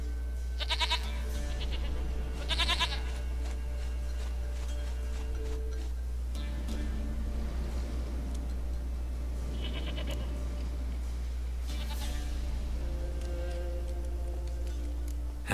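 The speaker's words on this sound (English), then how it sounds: "Goat of mine, dearest," Several goat bleats from a goat in the video game The Witcher 3: Wild Hunt, wavering calls in bursts over a low steady hum and soft ticking.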